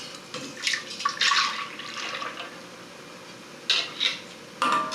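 Heavy cream pours from a quart container into a pot in a kitchen, giving a soft liquid splashing that comes in a few short bursts with quiet pauses between.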